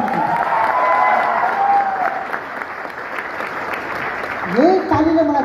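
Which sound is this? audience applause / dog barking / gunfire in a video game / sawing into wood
audience applause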